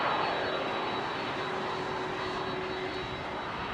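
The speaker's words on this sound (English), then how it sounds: "Lovely old Delta 763." A Delta Boeing 767-300 jet at London Heathrow, its engines a steady, fairly distant broadband roar with a faint tonal whine held throughout, no voices present.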